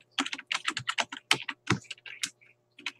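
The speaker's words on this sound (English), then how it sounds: "So let's type up something very important." Someone types a title on a computer keyboard: a rapid, uneven run of close, crisp key clicks with brief pauses, and no voices.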